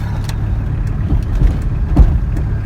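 A car drives along with a steady low engine rumble and road noise heard from inside, a few light knocks and bumps rising briefly over the drone.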